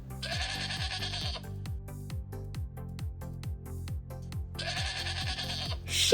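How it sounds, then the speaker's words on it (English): Sheep bleat in two loud, long quavering calls, one at the start and one near the end, set against a steady plucked musical backing with no talking. "sheep,"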